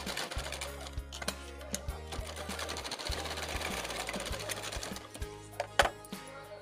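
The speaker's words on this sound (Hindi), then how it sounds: "कॉर्नर की साइड से हम सुई को नीचे की तरफ रखेंगे और फिर यहाँ से किनारे की सिलाई घुमाते हुए हम यहाँ पर टर्न कर लेंगे इसको" An electric sewing machine stitching around the edge of a blouse neckline, running in a rapid mechanical patter with short pauses and restarts and a few louder clicks near the end, close up.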